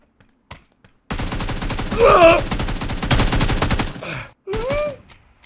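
Automatic weapon fire in the video game PUBG: a sustained loud burst of rapid shots, a brief pause, then another burst, with a few faint thuds beforehand and game sounds after.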